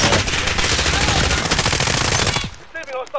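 Rapid automatic gunfire in the video game Warzone, a loud dense burst of machine-gun shots lasting over two seconds, then cutting off as a voice briefly speaks over quieter game sounds.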